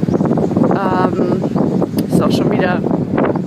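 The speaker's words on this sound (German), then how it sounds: "super windig" Steady wind near a harbour buffets the microphone in a broad low rumble while a person speaks German over it, noise running continuously through the whole moment.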